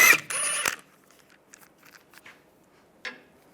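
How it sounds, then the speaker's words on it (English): A ratchet fitted with a 17mm socket works a wheel lock nut loose on a 1998–2010 Volkswagen Beetle, starting with a loud burst of harsh clicking, then softer scattered ticks and a final sharp click, with no voices. "Using a 17mm socket,"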